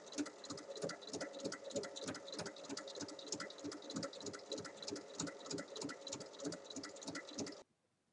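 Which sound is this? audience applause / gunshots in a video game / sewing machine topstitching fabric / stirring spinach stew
sewing machine topstitching fabric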